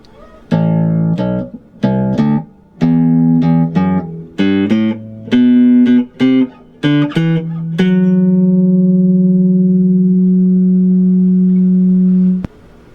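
A bass guitar plays a low, plucked riff of quick separate notes, ending on one long sustained note that rings out for several seconds, played alone.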